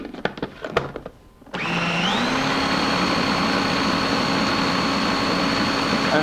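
A food processor blends chicken liver pâté at high speed, starting after a few clicks and a brief pause with a sudden loud whir that ramps up in pitch and then holds a steady, close, continuous roar.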